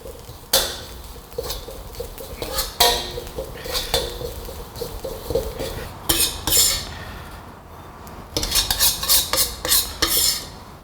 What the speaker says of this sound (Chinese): 把这个芽菜炒干之后，我们给点油哈